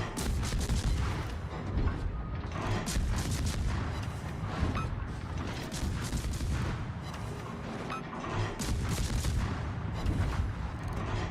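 Naval guns booming in World of Warships, a dense, continuous barrage of heavy artillery-like blasts with rumbling low end, loud and sustained throughout without pauses.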